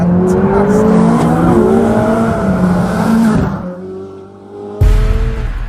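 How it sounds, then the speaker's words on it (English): A Ferrari 458 Speciale sports car is driven flat out on open roads, its engine screaming high through rising revs, dropping off on a gear change and lift, then bursting back loud and close. "I just couldn't stop driving the 458 Speciale absolutely flat out"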